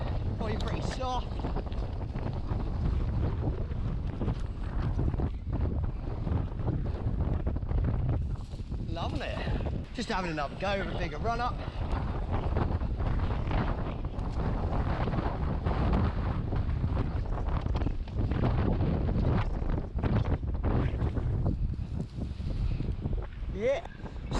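Strong gusting wind buffets the microphone on a mountain bike trail under construction, a constant loud roar throughout, with someone talking and brief whirring sounds in the middle.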